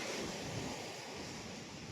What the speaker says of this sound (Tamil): இந்த அலையை ரசிப்பது, அந்த ஓசையை ரசிப்பது நமக்கு எவ்வளவு சிறப்பாக இருக்கிறது.